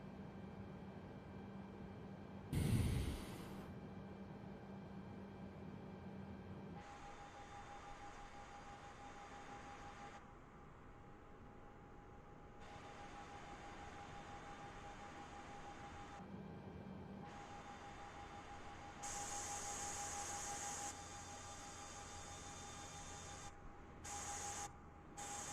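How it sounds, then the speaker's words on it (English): Both engines of an A320neo airliner spool up together in Microsoft Flight Simulator 2020: a steady mechanical hum with a thin, sustained whine. The level shifts in stages, with a brief sharp click early on and no talking. "We're just going to start both the engines at the same time."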